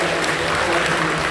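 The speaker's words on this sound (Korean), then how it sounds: "박수해 주시죠." A church congregation gives a brief burst of dense, sustained applause to welcome new members, loud and close, with a faint voice underneath.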